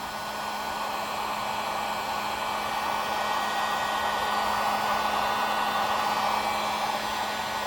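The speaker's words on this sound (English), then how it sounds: "take a heat gun and just slowly work back and forth" A heat gun blows a steady, loud whoosh with a constant hum, working heat-shrink wrap over a fishing rod handle in place of cork, running unbroken throughout with no talking.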